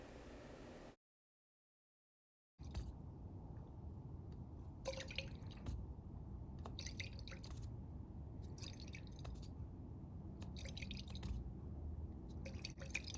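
Sodium hydroxide dripping from a burette into an acid flask during a titration, separate small drops falling roughly every second or two, close and quiet, after a brief silent gap at the start.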